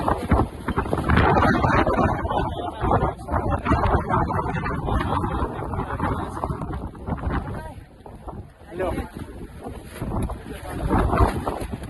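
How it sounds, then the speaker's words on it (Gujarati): Strong wind buffets the microphone atop Girnar mountain, a loud continuous roar with gusty swells, while a person talks over it. "એટલો પવન આવી રહ્યો છે ને, ઉપાડીને નીચે ફેંકી દે એટલો પવન આવી રહ્યો"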